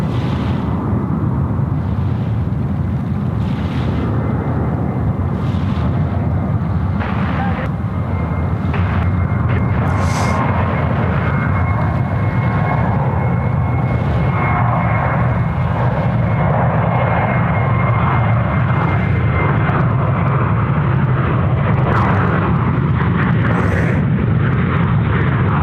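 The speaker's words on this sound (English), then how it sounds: "Velocity 816 service now departing to Melbourne on the Milk Run, now rolling runway 34 right" A Velocity airliner on a departure to Melbourne rolls and takes off from Sydney Airport runway 34 right, a loud, sustained engine roar with deep rumble and crackling bursts building over nearly half a minute, no talk over it.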